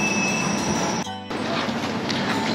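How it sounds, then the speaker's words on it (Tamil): A train at a Swiss railway station near Interlaken gives a steady, loud rolling rumble with a high wheel squeal, then a brief dip in level before the rumble resumes. "அது ஒரு ட்ரெயின், இது ஒரு ட்ரெயினுங்க."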